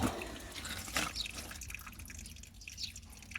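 Water escapes from the burst joint of a water main, a close, steady wet trickle and drip with a spattering edge that swells and eases.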